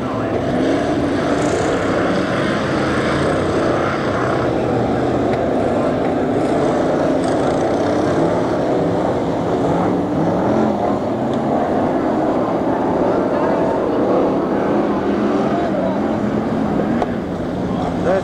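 Stock cars at a 1990 Long Eaton semi-final meeting roar past on the oval in a continuous, loud drone of engines, with a commentator speaking over the noise throughout.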